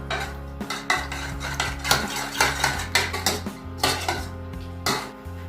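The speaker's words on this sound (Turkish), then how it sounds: "kalan sosumun içerisine şöyle bir adet yumurtamı kırıyorum. Ve çırpıyorum" A utensil briskly whisks an egg into leftover sauce in a bowl, close rhythmic scraping and clinking strokes repeating steadily against the dish, with no voices.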